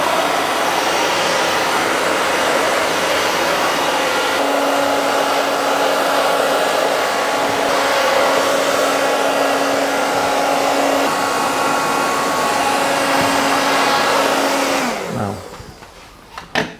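Hair dryer blows in a loud, close, steady roar during a men's medium-length mullet haircut, holding for about fifteen seconds before switching off and spinning down, followed by a faint clatter.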